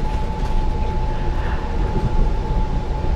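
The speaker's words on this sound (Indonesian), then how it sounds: "Kereta api taksaka tambahan melintasi jembatan Glagah dengan kecepatan maksimal 25 km per jam." A Taksaka passenger train, a panoramic luxury service in Indonesia, crosses Glagah bridge at about 25 km/h, giving a steady, loud, continuous rumble with a thin constant whine above it and no breaks.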